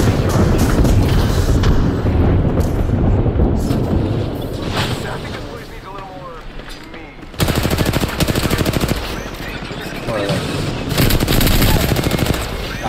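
A grenade blast amid heavy automatic gunfire in Apex Legends, rapid bursts crackling through much of the stretch with a fresh loud volley midway, while a player talks over the action.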